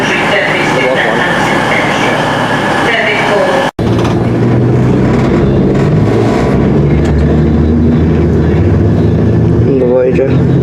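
A Pendolino train stands at a platform at Wolverhampton, its hum and rumble filling the station, with a brief cut partway through and people talking over it.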